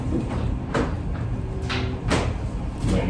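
Rubber bed mat sliding into the bed of a 2024 GMC Canyon pickup truck, a few scraping, rubbing drags over a steady low background hum, close and fairly loud.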